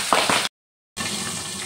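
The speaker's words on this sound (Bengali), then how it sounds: "পাবদা মাছ তো তেলে দিলে খুব ফাটে" Salted, turmeric-coated pabda fish hit hot oil in a pan, giving a loud crackling sizzle with sharp pops that breaks off abruptly, then returns as a steadier, softer frying hiss.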